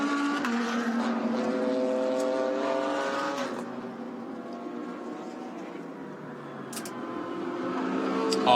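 GT race cars, including a Mercedes, lapping at Yeongam, Korea in a Blancpain GT World Challenge Asia race; steady engine drone with a pitch sweep as a car passes, commentary voices underneath.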